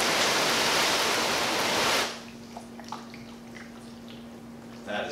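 A flat spray of water from a hose hits freshly ceramic-waxed car paint, making a loud, steady broadband hiss for about two seconds. It then cuts off, leaving a faint hum with light drips and small sounds.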